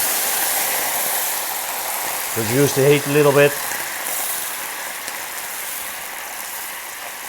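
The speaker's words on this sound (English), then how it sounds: "We want to deglaze that pan." A hot butter pan, used for a lamb rack, hisses and sizzles steadily as it is deglazed with wine for a ruby port jus. Loud, close frying noise runs throughout, with a person speaking briefly over it.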